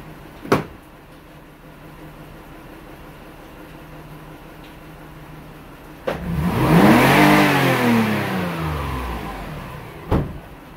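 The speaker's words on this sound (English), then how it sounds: "We're going to do another snap throttle." A car engine with its fuel injector disconnected is snapped open once, a loud roaring rev rising and falling over several seconds, framed by sharp clicks before and after.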